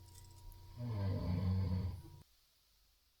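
A person snoring in a quiet room: one low, rumbling drawn-out snore, fairly close, fading into near silence.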